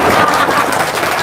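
A live audience at a religious talk gives a brief burst of steady, close clapping, loud and unbroken through the short moment.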